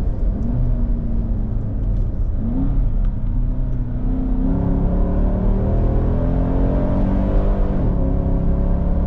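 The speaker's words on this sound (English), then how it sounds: "It even has blipping of the throttle on the downshifts if you use the manual mode" Engine of a 2024 Nissan Patrol Warrior (Y62) blipping its throttle on manual-mode downshifts: a loud, close, continuous rumbling drone with rising and falling revs, short rev spikes between gears, no talking over it.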